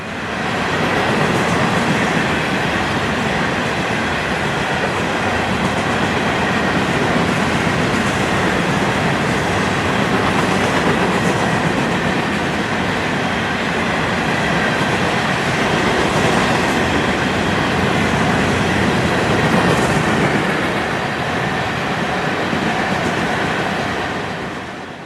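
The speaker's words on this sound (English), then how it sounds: "335 and 336 are known as the FEC's unit train pair, hauling C-Max rock from Miami to City Point near Cocoa Beach and back." A Florida East Coast Railway freight unit train loaded with C-Max rock rolls past on its run between Miami and City Point, a loud steady roar of wheels and railcars sustained throughout with faint clickety-clack and no talk.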